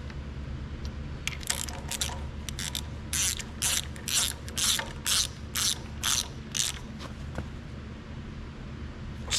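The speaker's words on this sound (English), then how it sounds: "We get a 3/4 socket. Alright, we'll go ahead and tighten these down." A ratchet with a 3/4 socket tightens bolts on an Allis Chalmers grader, giving close, rapid clicking in a run of about eight short bursts over a steady low background hum.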